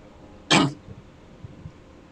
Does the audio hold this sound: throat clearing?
yes